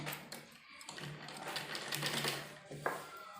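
Sewing machine stitching together pieces of a baby umbrella frock, a steady close mechanical whir with small rhythmic clicks running throughout, no voices.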